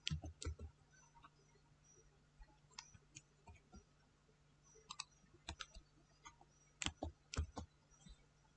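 Keys clicking on a computer keyboard as a Windows command is typed, sparse quick taps in short bursts with pauses between, close and fairly quiet over a faint steady hum.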